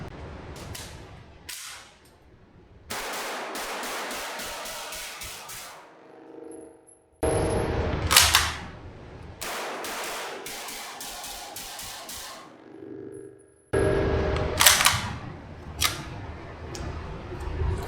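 Zenith ZF-5, an MP5-style roller-locked firearm, fires about ten sharp shots in several bursts of quick single reports, loud and close, with short pauses and clicking handling noises between strings.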